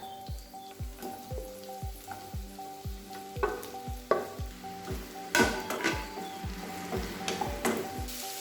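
Two large chopped onions sautéing in a pan sizzle steadily while a spatula scrapes through them in quick, regular strokes, close and fairly loud with no talking.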